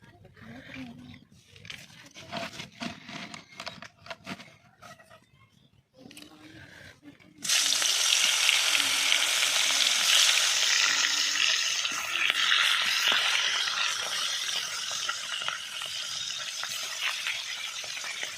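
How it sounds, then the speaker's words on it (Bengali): Fish dropped into hot oil in a home kitchen, bursting into a loud, steady hiss about seven seconds in after quieter, sparse handling sounds, then sizzling continuously to the end. "আর এই যে আমার তেলটা গরম হয়ে গেছে, তো মাছগুলো ভাজতে থাকবে এবার।"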